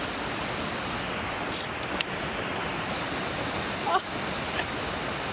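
Rushing water of Shoals Falls, a waterfall in South Mountain State Park, North Carolina, pours as a dense, steady roar close by and fills the whole clip, with a few faint knocks and handling noises on top.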